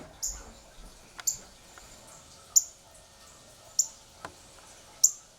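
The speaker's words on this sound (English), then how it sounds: "A bird on our bird feeder." Small bird at a household bird feeder giving several brief, sharp high chirps spaced irregularly over quiet indoor background, faint and fairly close.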